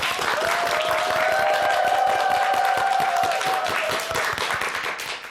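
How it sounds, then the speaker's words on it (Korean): A studio audience at a televised morning talk-show lecture on exercise for older people claps steadily and loudly, a dense continuous applause with faint cheering that holds for several seconds before tapering slightly at the end. "강연을 박수로 시작해 보도록 하겠습니다"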